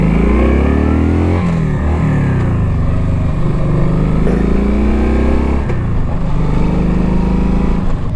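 A Kawasaki Nomad motorcycle engine revs up loud and close, its pitch climbing through the gears with brief dips at the shifts, alone without talk.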